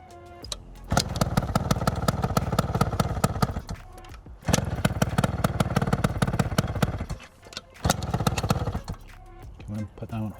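Small Adly motor scooter engine running in bursts with a steady, buzzy idle, cutting out and restarting a few times, close and fairly loud, with some talk in between.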